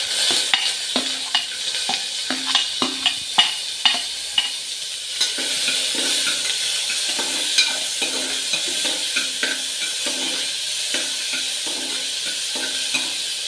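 Onions sautéing in hot oil with popped mustard seeds and curry leaves, making a loud continuous sizzle broken by repeated clinks and scrapes of a spoon stirring the pan, with no voices.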